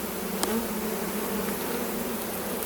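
Honey bees buzz steadily and close by while a hive is opened for inspection and a Flow Hive honey super is added, a continuous dense drone with one brief sharper sound near the start.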